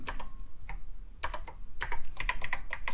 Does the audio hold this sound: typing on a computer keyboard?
yes